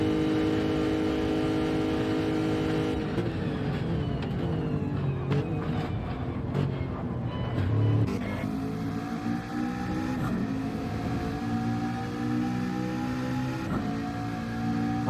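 Race car engines in a Le Mans sim racing game hold a steady high drone down the straight, with gear changes and rising pitch sweeps as cars run together in the slipstream, no talk.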